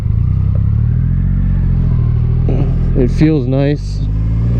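A 2020 Triumph Rocket 3 R motorcycle in Jet Black rumbles steadily at close range as it pulls away, a low engine drone that keeps on under a rider's brief spoken remark and excited exclamations.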